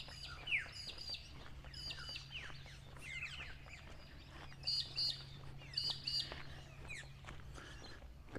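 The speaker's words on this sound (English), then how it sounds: "Leaving it so you can hear the birds a little bit." Several birds chirp and tweet along a quiet back street, with short bright calls and trills scattered over a low steady hum, all faint and somewhat distant, with no voices.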